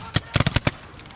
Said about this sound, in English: I heard a rocket. I just heard a rocket.